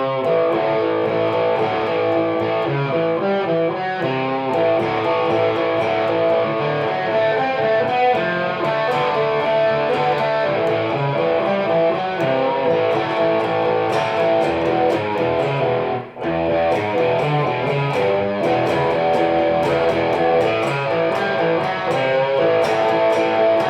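A distorted electric guitar plays a driving boogie-woogie lick in the E position, repeating steadily and loud, with one brief dropout near the end and no talking.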